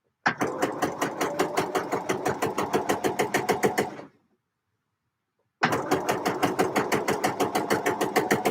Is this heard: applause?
no